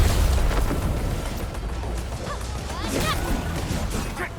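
Weapon fire and explosions from the Arknights Endfield video game, booming and crashing in a dense, continuous wash with a few sharp bursts standing out, layered under game sound effects.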